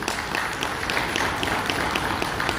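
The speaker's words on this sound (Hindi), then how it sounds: "जो कि ताली हो जाए।" Audience applause at a 93.5 Red FM award ceremony, a dense, continuous patter of many hands clapping at a steady level throughout.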